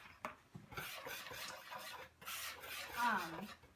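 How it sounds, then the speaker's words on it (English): Cocoa powder, salt and baking soda being stirred together in a bowl, a soft continuous scraping and rubbing at close range, fairly quiet, with a brief clink near the start. "you're gonna add your cocoa powder, your salt, and your baking soda. And then you're just gonna mix"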